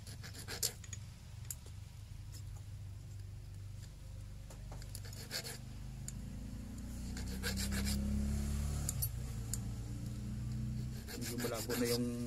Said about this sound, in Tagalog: ito, anin ko lang siya dito ng kikil din para magkorte siyang parang bunganga.